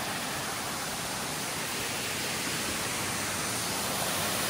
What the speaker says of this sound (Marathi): त्याच्यामध्येच हा धबधबा वाहतोय